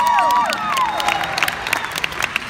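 An audience at a concert at The Anthem in DC claps and cheers. Sharp, scattered claps and crowd noise carry on under whistles and shouted voices.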